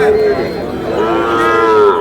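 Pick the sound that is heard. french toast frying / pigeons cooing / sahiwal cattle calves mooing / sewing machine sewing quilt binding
sahiwal cattle calves mooing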